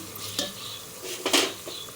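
Spices and ingredients frying in a pan while being stirred for a quick home recipe, with soft sizzling and a few clinks of a spoon scraping the pan, close and moderately quiet.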